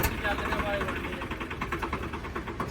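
A Swaraj 855 tractor with a new silencer idles with a steady rhythmic chug, close and fairly loud, with a voice speaking over it.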